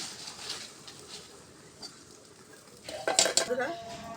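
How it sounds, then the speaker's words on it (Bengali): A kadai is set back on a village stove with a short cluster of loud metallic clanks and scrapes near the end, after a stretch of low background noise and faint clatter. "আবার কাড়াই তুলে দিলাম"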